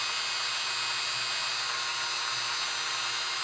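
A steady, high-pitched whine of a drill twisting wire, running continuously at constant speed, close by, with no talking.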